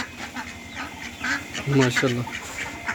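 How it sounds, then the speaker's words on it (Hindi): Village ducks quack in a few nasal calls close by, and someone speaks briefly over them. "ये साढ़े मुर्गाबियाँ"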